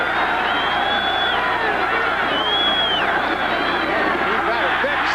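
A stadium crowd of about 64,000 at a Bears home game against Tampa Bay roars steadily throughout, with rising chant-like swells under continuous excited commentary.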